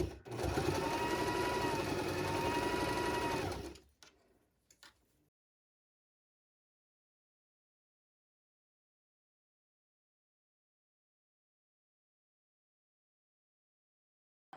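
A Baby Lock Zest sewing machine straight-stitches a t-shirt dress hem in one loud, close burst of about four seconds, then a few soft clicks give way to silence.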